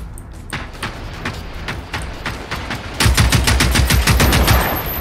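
Rapid bursts of automatic gunfire from a weapon in a robot-fighting video game, a fast rhythmic volley that steps up louder and denser midway through, close and continuous.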